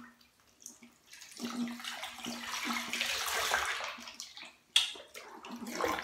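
Water splashes and runs steadily while a Chihuahua is bathed in a tub, a soft continuous wash with a sharper splash near the end, fairly quiet and close.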